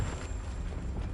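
A Confringo spell blast explodes in the game Hogwarts Legacy, heard as a dense, booming burst of rumbling noise that fills a brief moment.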